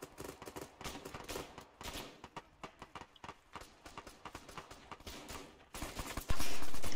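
Gunfire in a military tactical shooter game arrives as rapid, irregular bursts of sharp shots and rattling volleys, with a loud sustained blast of noise near the end.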